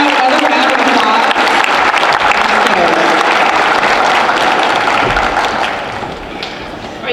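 Sustained applause from a school convocation audience at a Veterans Day event, loud and dense throughout with some cheering, easing slightly in the last second.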